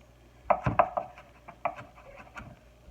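Knife cross-chop mincing on a wooden cutting board, a cluster of close, crisp knocks and scrapes in a quick irregular rhythm, then a few sparser taps, with no talking.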